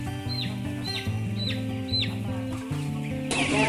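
Chickens cluck on a school poultry farm while a steady tonal hum runs beneath them. Sharp repeated calls ring out at regular intervals, close and clear, with no voices.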